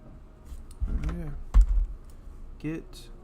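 Keystrokes tap on a computer keyboard while someone types a git clone command, with soft clicks running under a voice as he talks over them.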